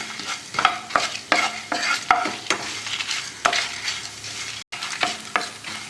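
Black pepper, cumin seeds, dried chillies and coriander seeds dry-roasting in a pan for Tamil-style rasam, with repeated scraping stirs and light crackling, close and fairly loud, no voices.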